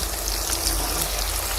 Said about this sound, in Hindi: ये देखिए ये हमारे प्याज फ्राई हो रहे हैं।